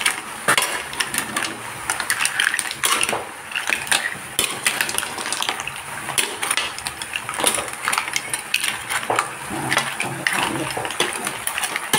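Seafood with squid is stirred and mixed in a pan, giving busy close scraping, clinking and sizzling clatter throughout, with occasional talk over it.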